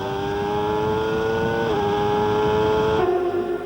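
A 1993 Formula 1 car screams through qualifying on the Adelaide street circuit, its engine holding a loud, steady high-revving note that climbs slightly, dips briefly midway, then drops in pitch near the end.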